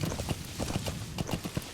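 Horse hooves gallop at a quick, even rhythm in Metal Gear Solid V, the clip-clop beats close and steady over a low game background, with no talk.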